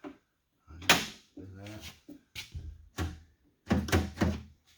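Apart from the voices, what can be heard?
2008 Kia Sorento car door being shut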